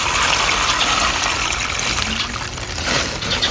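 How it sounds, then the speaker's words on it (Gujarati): Dal, toor lentils among them, swished and rinsed in water inside a cooking pot, a steady close splashing wash running without pause and without talk. "તપેલીમાં પાણી લઈ અને બધી જે દાળ છે આપણે તેને સાફ કરી લેવાની છે"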